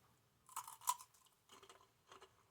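Close, crisp crunching bites into a dill pickle, three separate bursts of wet crunch with short pauses between them, no speech.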